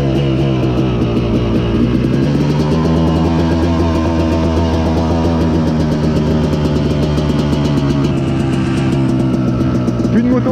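An old Yamaha YZ dirt bike engine runs continuously and loudly up close, a rough buzzing two-stroke idle with a slight pitch change early on, steady throughout.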